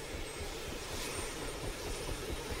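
A Merlin transport helicopter in a military video game, its engine and rotors a steady, loud, broadband roar that holds unbroken throughout without pauses.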